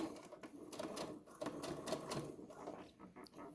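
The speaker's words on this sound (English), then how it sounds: "So I'm just stitching it on the edge, and then I'm not even going to back stitch it." A sewing machine runs in short, rapid bursts of stitching along the edge of a pajama shorts waistband, close and steady, with a softly spoken voice.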